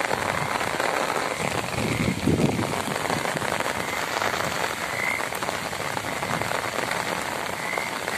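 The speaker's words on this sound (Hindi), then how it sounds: "बहुत ज़बरदस्त बारिश शुरू है।" Steady, dense downpour of heavy rain drumming on surfaces in Swabi, a continuous hiss with no voices.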